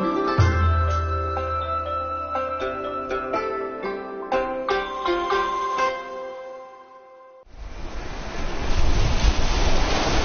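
Sea waves and wind wash along a coastline, a broad roaring surge rising in the last few seconds after a stretch with strong layered tones and a brief near-silent gap.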